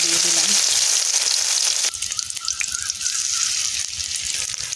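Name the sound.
fish fritters in egg batter frying in oil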